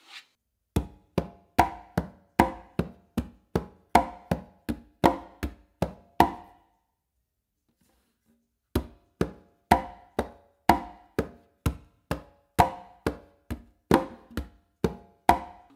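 Congas played in a steady clave independence pattern, two long runs of crisp, evenly spaced hand strokes mixing slaps, bass and finger tones, separated by a brief pause, close and dry with no voices.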